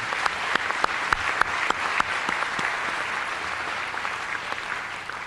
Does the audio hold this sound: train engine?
no